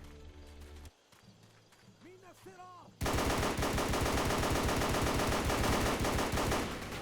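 Shooter video game combat at an airfield, with sustained loud automatic gunfire that bursts in suddenly after a quieter stretch of game noise and keeps a rapid steady rhythm to the end.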